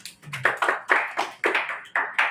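Applause breaks out in a church wedding ceremony for Jesus, several bursts of clapping hands from a gathered congregation, fairly close and lively, with short pauses between rounds.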